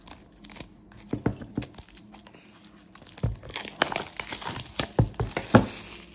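Plastic wrapping on a boxed oracle card deck crinkles and tears up close in sharp, irregular bursts, growing busier and louder toward the end, with no voices.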